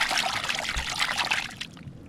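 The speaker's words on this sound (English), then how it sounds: "Rinse it off." Running water pours and trickles steadily over a freshly cleaned maikoiko fish being rinsed in Hawaii, a continuous hissing splash that cuts off near the end, with no talk.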